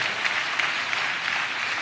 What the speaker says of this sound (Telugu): చప్పట్లు కొడితే యేసయ్యకు స్తోత్రాలు చెప్దాం